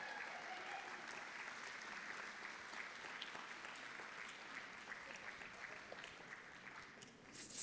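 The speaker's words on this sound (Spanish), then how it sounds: "Dales un aplauso." A church congregation applauds to welcome a visiting Jucum youth group, sustained dense clapping from many people, faint and distant, holding steady throughout.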